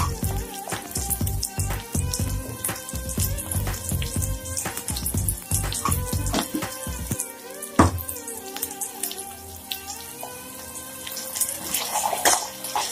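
Ginger garlic paste drops into hot oil for a spicy village-style tomato curry, setting off a dense, continuous crackling and sputtering sizzle that is busiest at first and settles slightly later.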